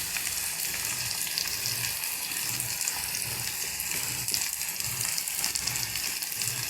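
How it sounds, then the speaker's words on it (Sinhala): Vegetables sauté in hot oil in a pan for a potato and mushroom curry, giving a steady, fairly loud broadband sizzle that runs unbroken throughout, with no voices. "තෙලෙන් සම්බා ගැනීමක් අපි කරන්නේ මෙතන."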